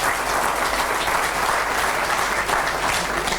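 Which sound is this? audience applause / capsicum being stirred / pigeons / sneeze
audience applause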